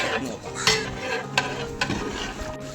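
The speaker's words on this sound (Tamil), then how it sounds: "இந்த அரிசி கொட்டோம்னா" Rice poured into a large pot of mutton biryani over a six-kilo batch, a continuous sizzling and rustling cascade with several sharp metallic knocks against the pot, close and loud.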